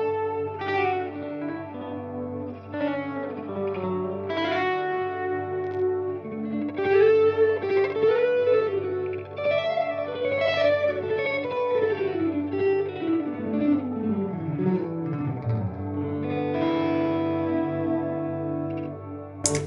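An electric guitar runs through a freeze effect preset on an HX Stomp, with a sustained, held pad of chords under legato lead lines, heavy with chorus, echo and reverb, and a pitch dive near the end.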